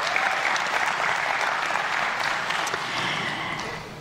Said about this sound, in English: Clap for Will.